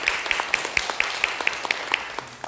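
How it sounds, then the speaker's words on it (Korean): A church congregation applauding to welcome members during a worship service, a rhythmic run of distinct claps at an even pace with a faint room murmur underneath. "박수로 우리 환영합니다"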